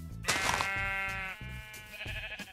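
Minecraft sheep bleat in a game, one drawn-out, wavering baa followed by a second shorter bleat, loud and close with no talk over it.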